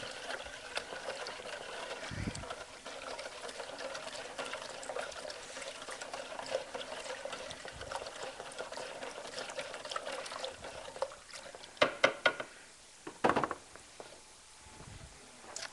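Thawed frozen blueberries poured into a wine-making machine, giving a soft, steady trickle and patter of liquid with a few sharper wet drops and knocks toward the end, faint and close.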